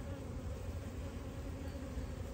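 Honey bees buzzing over a brood frame lifted from a hive body during an inspection, a steady, close, continuous drone-like hum with no talking.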